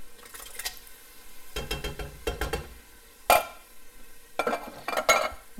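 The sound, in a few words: stirring diced tomatoes into a pot of vegetables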